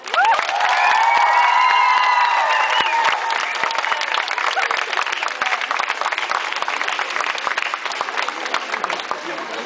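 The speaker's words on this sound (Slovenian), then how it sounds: "Dame in gospodje, gromoglasen aplavz za Petra Prevca." A large crowd in a city park bursts into loud applause and cheering for a ski jumper, with whoops and shouts over dense clapping that peaks at the start and stays strong throughout, sounding close and boisterous.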